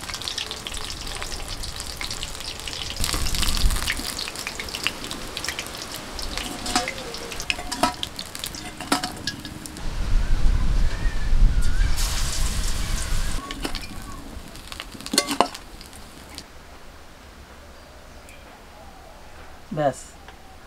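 Pieces of banana blossom batter fry for pakoras in a pan, browning to a reddish colour, with a loud, shifting sizzle and bursts of crackle while people talk at times over the spitting oil.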